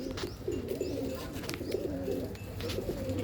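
Several pigeons in a Pandharpur loft keep up a steady chorus of low rolling coos, repeated in overlapping phrases at close range, with faint rustling above and no speech.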